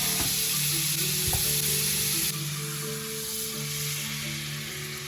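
Buttered garlic shrimp fry in a hot pan with chili oil and sriracha, a loud, steady, close sizzle with a few clatters of stirring, and no talking.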